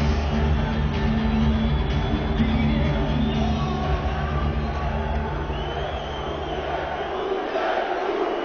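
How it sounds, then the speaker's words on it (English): A large boxing arena crowd roars and chants a fighter's name in steady rhythm, a dense continuous wall of voices heard from a distance. "crowd getting into it, chanting Boutte, Boutte."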